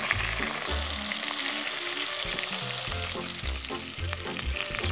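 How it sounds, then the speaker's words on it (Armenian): Chicken sizzles and fries in a pan, a steady crackling hiss with occasional stirring scrapes, close and continuous with no talk. "3 րոպեից տապակված կլինի հավը"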